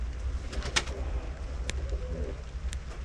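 Pigeons coo softly in a coop under steady low hum, with a few sharp clicks and flutters breaking through close by.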